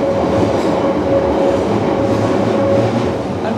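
London Underground Waterloo and City line train running, a loud continuous rumble and rattle of wheels on track with a faint steady whine, heard from on board without talking.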